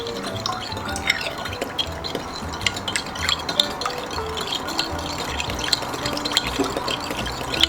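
A spoon stirs sugar into a sauce for vegetable pad thai, with soft, continuous scraping and light clinks against the bowl, close and fairly quiet, no talking.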